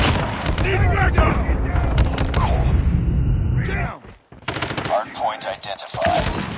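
Rapid automatic gunfire from a Rytec AMR rifle fitted with a thermite magazine in Call of Duty Mobile, loud sustained bursts with a brief pause, then more shots under in-game voice callouts.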